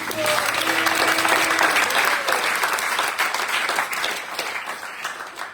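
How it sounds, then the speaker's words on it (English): A crowd at a Vyasa Puja celebration for Indradyumna Swami bursts into loud, sustained applause, dense clapping that gradually fades, with some voices mixed in. "Give him a big round of applause."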